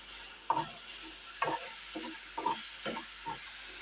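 Spice paste fries in a pan in a home kitchen with a faint, soft sizzle, broken by a series of rhythmic scraping stirs about every half second.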